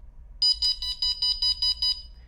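A ColorAlti 3 altimeter gives eight evenly spaced electronic beeps to show its battery level. The beeps are loud, clear and high-pitched, with no other sound between them.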